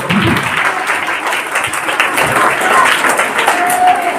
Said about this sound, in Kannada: ಇದಕ್ಕೊಂದು ದೊಡ್ಡ ಚಪ್ಪಾಳೆ ಇರಬೇಕು